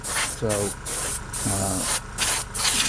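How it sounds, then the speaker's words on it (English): Short bursts of compressed air blowing onto freshly painted craft acrylic, several hissing blasts in an uneven rhythm with pauses between them, while a person talks between and over the bursts. "You can just blow straight air on it."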